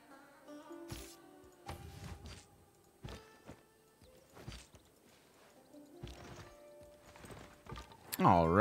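Horse hooves in Civilization 6 clip-clop in short irregular clusters of clear, close knocks, with sparse quiet gaps between and a brief louder tonal sound at the end.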